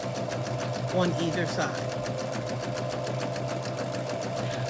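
Sewing machine stitching a quarter-inch seam on quilt fabric, a steady rapid mechanical whir with regular needle pulses running throughout, close and constant while a person talks over it.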